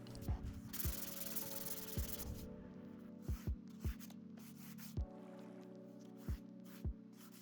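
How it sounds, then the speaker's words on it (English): Hand sanding the beveled edges of a wooden end grain cutting board, a soft steady rubbing with a series of short sharp scrapes, quiet and close with no talking. "I hand sanded the edges to give them a little bevel."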